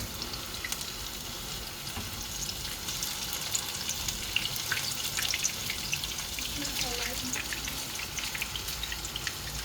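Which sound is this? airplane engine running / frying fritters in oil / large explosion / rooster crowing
frying fritters in oil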